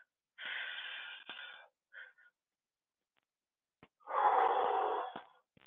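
A person breathes out audibly during a stretching exercise in a cross-training session, two strong wheezy exhales with a brief puff between, close and alone.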